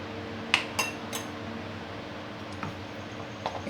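A spoon clinks against a bowl while pancake batter and cooking oil are stirred together, giving a few sharp metallic taps early and softer scraping ticks later over a steady background hiss.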